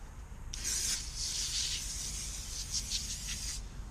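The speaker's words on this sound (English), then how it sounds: "there's an aerosol glass cleaner that I'm using" An aerosol glass cleaner sprays onto a Honda EU2000i generator in a continuous hiss of about three seconds, close and fairly quiet, with slight pulsing near the end of the burst.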